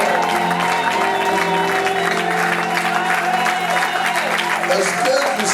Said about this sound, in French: Nous acclamons Dieu très fort.